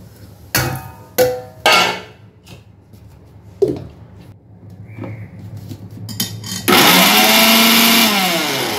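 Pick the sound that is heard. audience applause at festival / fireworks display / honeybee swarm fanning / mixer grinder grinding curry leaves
mixer grinder grinding curry leaves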